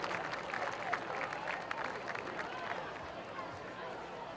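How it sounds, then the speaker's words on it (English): Applause from a crowd at a high school football event during an inductee ceremony, a faint, distant wash of clapping under stadium ambience, with talk running over it. "How about a nice round of applause for Michelle Wagner Newman, class of 1995."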